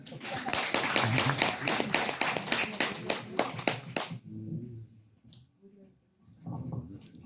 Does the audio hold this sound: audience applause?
yes